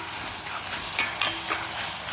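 Peas and tomato masala for aloo matar sauté in a pan, a close, continuous sizzle broken by a few stirring scrapes, with no one talking.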